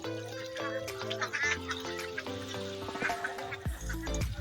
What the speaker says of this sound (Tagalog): Daming itik.